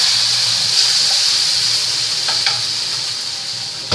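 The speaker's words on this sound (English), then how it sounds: "I got these frozen peppers and onions cooking down a little bit." Frozen peppers and onions cook with ham in a frying pan, giving a loud, close, continuous sizzle with a few faint clicks of stirring. No one speaks.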